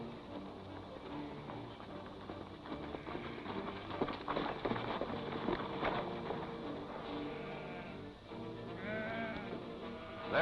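Sheep bleat in a dusty canyon scene of a 1941 Western, several wavering calls rising over a busy mix of hoofbeats and background noise, with one clearer bleat near the end.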